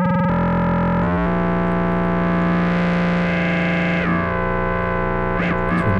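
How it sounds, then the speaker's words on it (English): A Native Instruments Massive synth patch sustains a buzzy, distorted tone while filter frequency modulation sweeps the filter open and closed, the timbre shifting and warbling continuously, loud and upfront with no voice. "So we're modulating the filter opening and closing."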